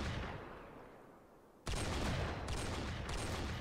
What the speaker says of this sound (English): Jump and then shoot the Barret.